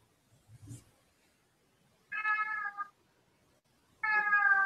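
Domestic cat meowing twice in clear, sustained calls about two seconds apart, close and loud, preceded by a brief soft rustle, with no talking.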